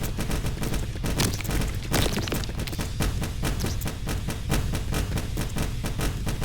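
Gatling cannon turrets in a turret defense video game fire a dense, continuous stream of rapid gunshots, loud and steady with bursts overlapping throughout, without any talking.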